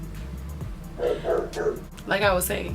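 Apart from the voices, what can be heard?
dogs barking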